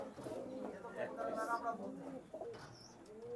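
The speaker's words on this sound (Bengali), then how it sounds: "এই দুটো হলো রানিং কবুতর, গোল্ডেন কবুতর" Golden Giribaj running pigeons, a male and female pair, coo softly and repeatedly at close range beneath steady background noise, with a person talking over them.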